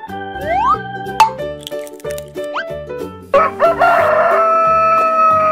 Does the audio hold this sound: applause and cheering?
no